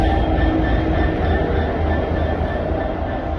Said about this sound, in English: here's 66761 running through platform 3